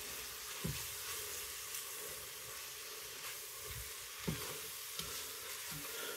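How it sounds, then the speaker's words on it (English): Haggis-spiced lamb mince and vegetables fry in a pan with a soft, continuous sizzle, broken by a few low knocks and scrapes as a utensil stirs and pokes the mixture, heard close and without any talking. "I'm going to fry these off for a couple of minutes"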